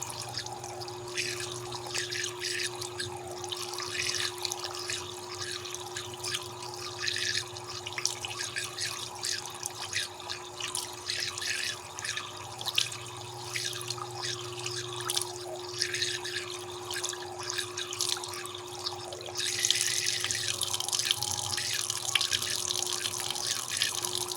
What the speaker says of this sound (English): Rinse your hands thoroughly under running water until all the soap is gone.